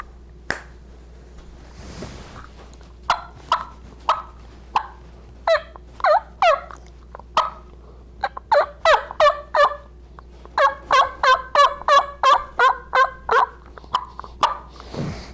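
A homemade wooden turkey call worked by hand to imitate a gobble, producing sharp, loud bursts that start sparse and then speed into rapid rattling runs of notes, close up against a quiet hum.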